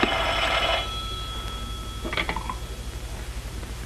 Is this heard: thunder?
no